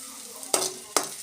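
Small shallots sautéing in hot oil in a kadai for drumstick leaf soup, a steady close sizzle broken by three sharp stirring scrapes in quick succession, with no voices.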